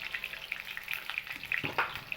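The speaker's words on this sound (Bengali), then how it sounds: "সামান্য একটু লবণ আর হলুদ গুঁড়ো দিয়েই আমি আলুটাকে ভেজে নেব।" Potato pieces frying in oil with salt and turmeric for a Bengali mutton kasha; a close, steady sizzle with a few faint stirring clinks and no talking.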